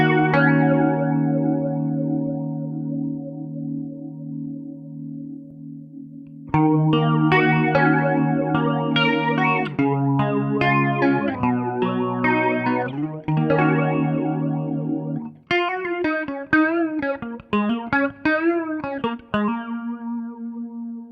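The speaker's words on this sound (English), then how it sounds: "you should hear the 6-stage phase on the right side and the 4-stage phase on the left side." Electric guitar through Strymon Zelzah and MXR Phase 95 phasers running in parallel in stereo, a six-stage and a four-stage phase sweeping together; sustained chords, then strummed passages and higher single-note lines, all swirling and continuous.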